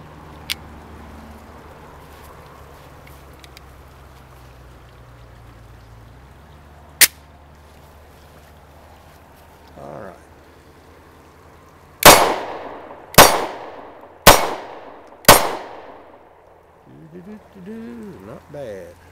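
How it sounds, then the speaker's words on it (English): A Taurus G2C pistol fires four sharp, loud shots in quick, evenly spaced succession, each ringing briefly, preceded by one isolated shot and quiet handling sounds. "what do you say we get a close-up of this being fired so you can get a sense of recoil and muzzle flip"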